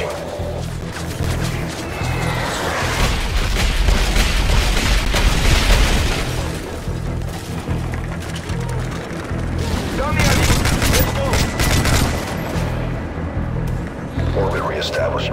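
Call of Duty Modern Warfare 3 gunfire and explosions from an aircraft fire mission, with bursts of shots and heavy booms in two loud waves, under radio chatter.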